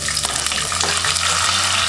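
Garlic and onion hit hot oil for tortilla soup, giving a loud, dense, continuous sizzle close by with faint stirring underneath.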